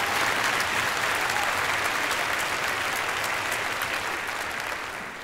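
Sustained, dense applause from a lecture-hall audience at a university poetry slam in Bielefeld, a steady roar of many clapping hands that holds loud for five seconds before beginning to thin out.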